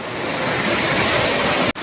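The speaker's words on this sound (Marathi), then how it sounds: "आमच्या गावातील धबधबा पहा" A loud, continuous roar of rushing water from a nearby monsoon village waterfall in Konkan, steady throughout and cutting off abruptly at the end.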